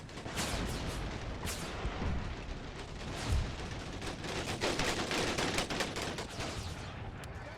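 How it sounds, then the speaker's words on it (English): Gatling gun fire in an Empire: Total War battle, a dense continuous roar of rapid gunshots and volleys blending into a loud, sustained rattle of battlefield gunfire without speech. "Well, that Gatling gun is going to cost us some men."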